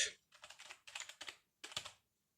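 Fingers type a prompt on a computer keyboard in close, quiet clusters of rapid clicking keystrokes, broken by short pauses, ending in silence, with no speech.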